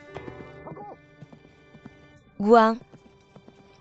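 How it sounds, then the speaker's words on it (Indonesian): A horse gives one short, loud neigh midway, with light hoof clops scattered around it, while people talk nearby. "Maukah kamu naik kuda?"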